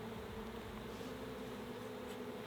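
Honeybees hum steadily from an open hive during an inspection, a constant close buzzing drone with no speech.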